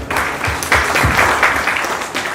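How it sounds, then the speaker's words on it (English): Audience applause at an entrepreneurship event welcoming the chapter president to the stage, a loud dense burst of clapping filling the short moment with no talk over it. "So with a huge round of applause, please welcome President TiE Chandigarh, Mr. Robin Agarwal."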